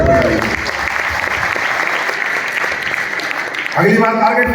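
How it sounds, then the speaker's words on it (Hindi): A crowd at a 10th anniversary event in Abu Dhabi bursts into loud, sustained applause that fills the room for several seconds, with someone speaking just before it and again as it fades. "जोरदार तालियां मिलती है"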